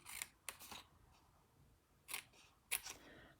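Scissors or a blade cut down the creased lines of a paper box in a few short, crisp snips and scrapes, close and quiet against near-silence.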